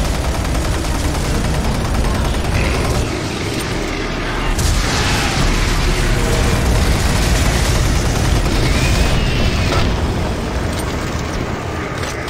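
Loud, dense gunfire and explosive booms fill a session of the PC shooter Doom 3 BFG Lost Mission, forming a continuous heavy roar with thicker bursts throughout and no clear speech.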